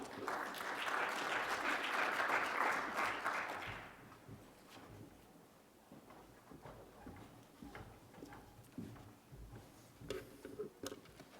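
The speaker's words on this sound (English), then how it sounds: "please everybody give me a warm round of applause" A conference audience gives a warm round of applause to welcome a speaker on stage, a full burst of many hands that dies away after a few seconds, leaving scattered faint claps and room noise.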